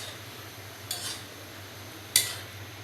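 Two brief metallic clinks of a utensil against a pot, spaced about a second apart over a quiet background hum.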